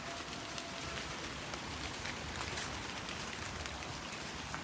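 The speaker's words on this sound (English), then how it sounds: "listen to the patter of the rain on the cars as you're going past." Rain patters on parked cars during an early morning walk, a steady, soft, hissing wash of drops that runs unbroken the whole time, with no voices.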